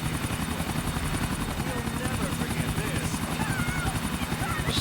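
A helicopter in the video game GTA IV, flying over water: rotor thumps steadily and continuously with a whining engine hum, loud and close throughout, with faint chatter underneath.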